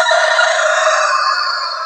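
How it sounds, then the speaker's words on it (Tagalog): A young rooster of a native Cantonese breed crows loud and close in one sustained, strained call that holds steady and fades slightly at the end. "meron pa akong bagong alaga nitong manok agaw, isang tandang"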